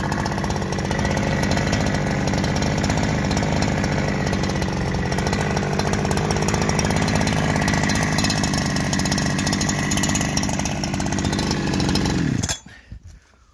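A Farmertec 372XP Holzfforma chainsaw, a Husqvarna 372 clone with carbon fiber parts and an aftermarket pipe, runs loud and steady at high revs for about twelve seconds, then shuts off abruptly into near silence.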